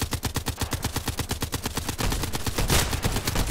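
Glock 18 pistol fired in fully automatic mode in a video game, a fast, steady stream of loud, evenly spaced gunshots running together into a continuous rattling burst.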